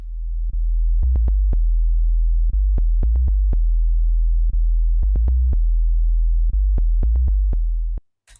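Monophonic bass synth in Ableton playing a tech house or deep house bassline: deep, clean sine-like bass notes in a repeating syncopated pattern of short stabs and held tones, loud and alone, stopping abruptly at the end.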